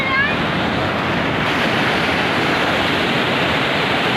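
A hill river swollen by monsoon rain rushes past near a bridge at Gorubathan in the Dooars of North Bengal, making a steady, loud, unbroken roar of churning water.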